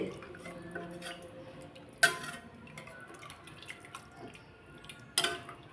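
Mudavattukal tuber soup with water is stirred in a pot in a kitchen, giving soft dripping and sloshing with two sharp clinks of a utensil against the pot, one near the start and one toward the end.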